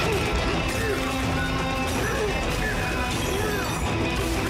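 A big, powerful Kong character in a video game punches and smashes through underground terrain, with dense crashing and thudding effects running continuously under a talking voice.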